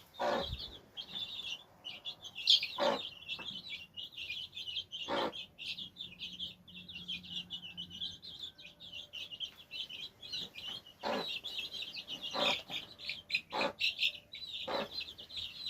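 Ten-day-old chicks eating purslane cheep in rapid, high-pitched bursts, close by, with occasional soft pecking taps between calls.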